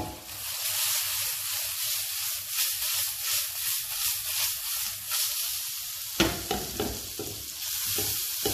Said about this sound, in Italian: Continuo a fiamma alta girandolo ogni 2-3 minuti.